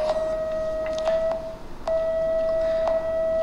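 Steady electronic sine tone from an electronic eye color sensor heard through bone conduction, the tone for purple, holding one pitch for several seconds with a brief dip and faint clicks.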